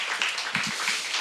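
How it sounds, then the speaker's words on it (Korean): Church congregation clapping together after the pastor's call, a dense wash of many hands with a few louder individual claps standing out, steady and moderately loud for about a second. "여러분 부모 세대로서 다 박수하겠습니다."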